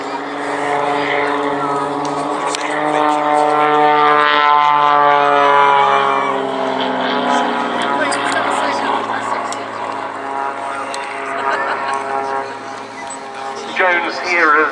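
A propeller aerobatic plane, an Extreme Air XA-41, flies at an American air show at IWM Duxford. Its engine drones loud and near with a rising and falling pitch as it passes, while a commentator talks over the PA.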